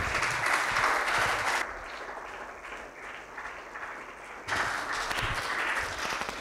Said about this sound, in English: bring it onto the stage with a big round of applause once again